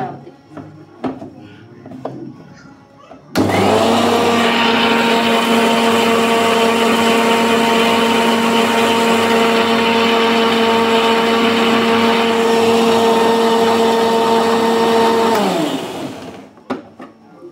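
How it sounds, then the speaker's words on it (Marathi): A mixer grinder blends masala paste with a little added water for egg curry, starting abruptly and holding a loud, steady whine for about twelve seconds before spinning down to silence, with faint kitchen sounds before it starts. "मिक्सरला लावते"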